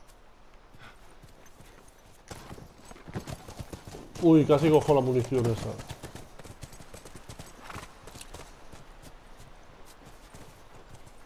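A horse in The Last of Us video game, hooves clip-clopping steadily at close range, with a brief neigh midway, while someone talks over the sound.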